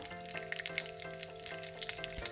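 Mustard seeds hit hot oil in a pan over a lowered gas flame, giving a close, steady sizzle peppered with small sharp pops and crackles throughout, with no voices.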